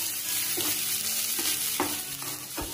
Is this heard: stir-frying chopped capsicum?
yes